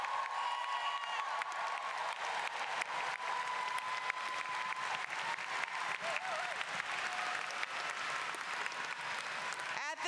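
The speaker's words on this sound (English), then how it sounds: "Give them a round of applause" Graduation crowd at the Clover Hill High School 2019 ceremony applauds the graduating class with steady, dense clapping that fills the hall throughout, a few voices mixed in.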